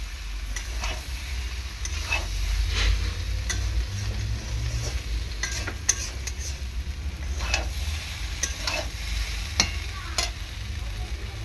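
Potatoes and soybean chunks sauté in a pan, a steady oily sizzle with a low hum beneath and occasional sharp scrapes and clicks of a spatula stirring.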